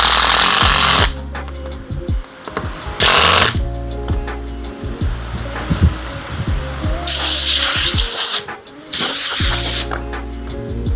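A power screwdriver drives a screw fixing a straightened, hammered-out metal hanger to a small wooden piece in a woodworking shop, loud bursts of whirring motor with pauses and clattering handling in between, no talk.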